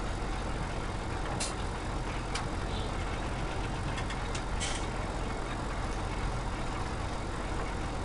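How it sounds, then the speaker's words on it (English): A tractor engine idles in a farming video game as a steady, low mechanical rumble, with a few brief higher clicks and hisses above it and no talk over it. "There's the tractor."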